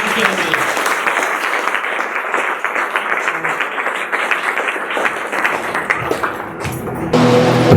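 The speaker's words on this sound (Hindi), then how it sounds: "जोरदार तालियों के द्वारा हम उनका स्वागत करेंगे" A church congregation at an afternoon meeting applauds to welcome the pastor, with dense, continuous clapping that fills the room for several seconds before the sound shifts near the end.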